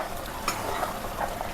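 A short burst of chicken curry being stirred in a pot, with a thick, even simmering hiss and a couple of soft scraping strokes close by.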